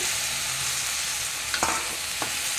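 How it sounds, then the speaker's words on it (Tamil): Chopped tomatoes are stirred into a hot frying pan while making chutney, a steady close sizzle with a few soft scraping stirs partway through and no talk. "தக்காளி ரெண்டு பெரிய தக்காளி அரிஞ்சு வச்சுருக்கோம் இதையும் இதுக்கு கூட சேர்த்து"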